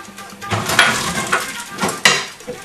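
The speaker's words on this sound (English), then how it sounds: "I'm going to put the bacon" Half-inch slices of bacon, about half a pack, dropped into a hot pan with a few clinks and clatters of pan and utensil, a soft sizzle rising between the knocks; close by, no talking.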